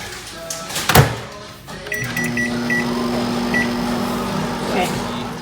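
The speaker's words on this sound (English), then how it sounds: "You put it in the microwave." A microwave oven hums steadily while heating a bowl of game day cheese dip, with a low continuous drone, a brief clunk near the start and faint beeps, as a person talks over it.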